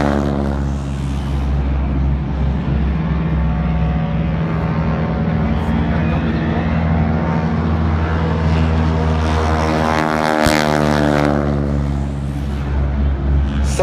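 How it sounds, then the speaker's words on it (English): North American T-6 Texan trainer on its takeoff roll, a loud, continuous propeller-engine roar with strong low harmonics rising in pitch as it passes near, with faint voices beneath. "On takeoff roll right now, the T6 Texan."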